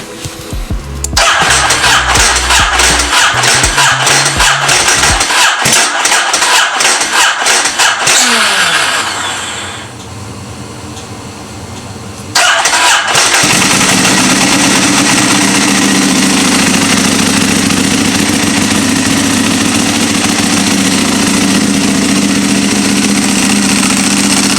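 A motorcycle with a suspected misaligned clutch cranks and catches, revs loudly, then dies. It restarts with a sharp burst and settles into a steady, loud idle close by.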